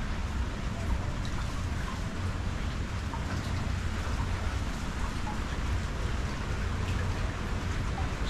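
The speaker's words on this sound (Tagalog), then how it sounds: "Sana wag nang umulan para bumaba na ang tubig." Steady rain falls during a flood, a dense unbroken hiss of drops on surfaces lasting throughout, moderately loud, with no voices.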